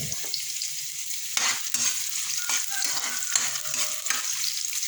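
Garlic sizzling steadily in a hot pan with oil, a bright continuous frying hiss broken by intermittent scraping stirs, close and fairly loud with no voices.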